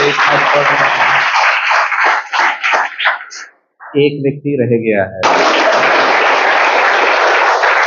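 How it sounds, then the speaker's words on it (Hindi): A college audience at a motivational talk claps loudly and densely, pauses as someone speaks briefly, then breaks into strong applause again for the final seconds. "मम्मी पापा घर वालों के लिए ताली बजाओ।"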